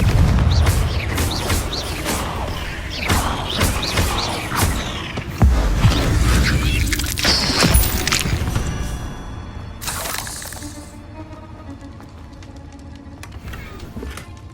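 Confringo blasting spell explosions inside a cave in the Hogwarts Legacy video game, several heavy booms and bursts with crackling debris, loud and close, fading to a quieter tail.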